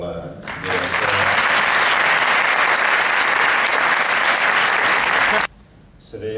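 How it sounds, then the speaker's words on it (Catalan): Loud, dense audience applause for a school director at a design and arts college ceremony, starting abruptly after brief speech, holding steady for about five seconds, then cutting off sharply before talking resumes. "demanar un aplaudiment per la directora"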